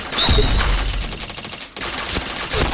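Rapid automatic gunfire in the video game PointBlank, a loud stream of quick shots that breaks off briefly and then resumes.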